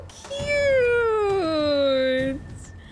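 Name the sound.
cat meowing, from video game Assassin's Creed 3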